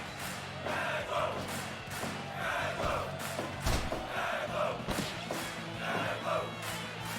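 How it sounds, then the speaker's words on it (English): Roaring crowd at a house-show wrestling match, loud and sustained throughout with swelling cheers and several louder surges, no talk over it. "the crowd is loving it"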